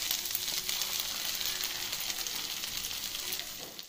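Pea paste hitting a pan of fried ginger sizzles loudly, a bright steady crackle that slowly eases off toward the end.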